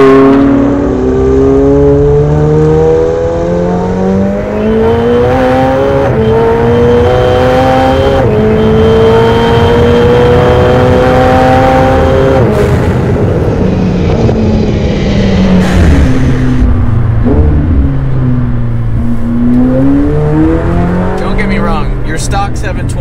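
A Hennessey-tuned McLaren 720S with 809 rear-wheel horsepower accelerates hard, its engine note climbing loud and close through several rapid upshifts, with brief tire chirps and faint talk.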